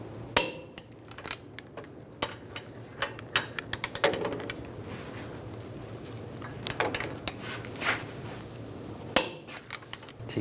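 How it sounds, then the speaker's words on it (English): Metallic clicks, taps and clanks of a torque wrench tightening front axle bolts to 130 foot-pounds on a 2011-2018 Ram 1500, sounding close and irregular in short bursts with brief ratcheting pauses, no talking. "Torque these bolts to 130 foot-pounds."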